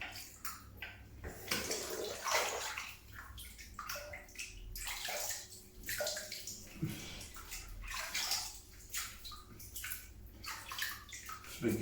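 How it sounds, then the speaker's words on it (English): Tap water runs steadily into a sink to wet the face before a shave, a continuous splashing flow with gurgles and shifting intensity, close and alone with no talking. "let's wet the face"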